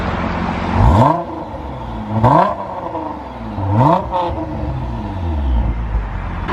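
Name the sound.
sports car engine revving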